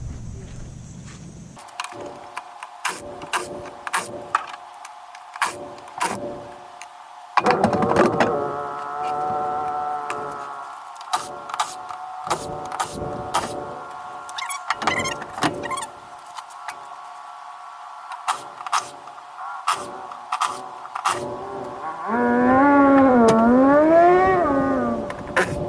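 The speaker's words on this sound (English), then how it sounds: "I'm going to start busting lug nuts loose" A car's lug nuts are loosened for a tire rotation, with a steady mechanical whine overlaid by repeated sharp impact-wrench bursts and clanks, then a longer warbling whir near the end.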